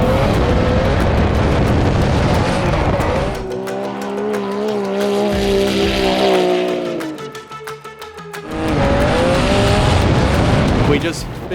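Drift cars scream past during a bye run at a Texas drift championship, engines wailing at high revs with loud tire squeal and skidding, fading briefly before another car roars close by again; voices are faint underneath.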